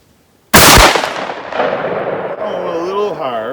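A 10-gauge shotgun firing a Fury Custom Foster slug at a range, one loud sharp blast followed by a decaying rumbling echo, with a voice starting to talk near the end.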